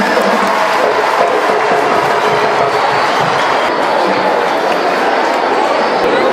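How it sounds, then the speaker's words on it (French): A large crowd at a children's pilgrimage sanctuary gathering cheers and claps, a dense, loud, sustained roar of many voices and hands with no break throughout. "On applaudit pour tout le monde."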